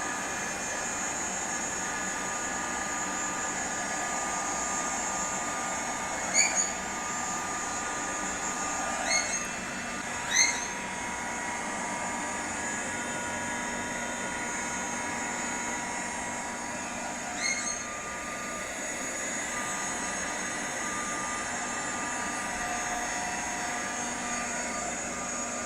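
A heat gun blows steadily while gold embossing powder melts on a card, a constant loud whirring hiss with a few small clicks and knocks from handling.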